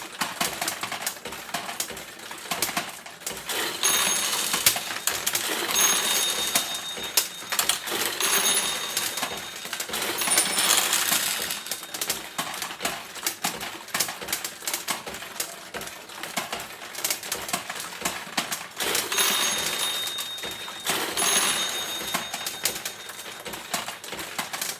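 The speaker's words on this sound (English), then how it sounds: "So we'll just launch a few balls so you can see the action." Steel balls launched through a 1977 Heiwa vintage pachinko machine, a continuous busy clatter of metallic pings, ticks and rattles close by, swelling and easing in waves with no talking.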